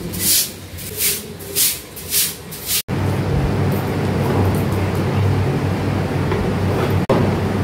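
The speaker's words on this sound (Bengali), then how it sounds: "এখন ও বাইরেটা পরিষ্কার করছে, বাইরেটা ভালো মতো ধুয়ে দেয় প্রত্যেক দিন।" Water hosed or splashed across an outdoor area in hot weather as it is washed clean, a steady broad wash of spray that runs continuously after a few rhythmic swishes at the start.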